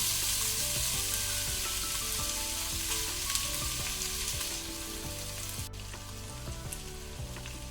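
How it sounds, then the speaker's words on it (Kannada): Chopped onions sizzle and crackle in a pan over a medium-high flame, a dense, even frying hiss that carries on throughout with faint stirring clicks. "ಈಗ ನಾವು ಈರುಳ್ಳಿಯನ್ನು ಮೀಡಿಯಂ ಟು ಹೈ ಫ್ಲೇಮಲ್ಲಿ ಗೋಲ್ಡನ್ ಬ್ರೌನ್ ಕಲರ್ ಬರುವ ತನಕ ಫ್ರೈ ಮಾಡ್ಕೊಳ್ಬೇಕು"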